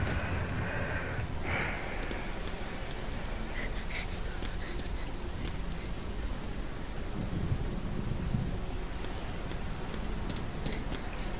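Rain pours steadily in the video game Heavy Rain, a dense, even hiss that never lets up, with a couple of sharp bright bursts near the start and scattered crackles later.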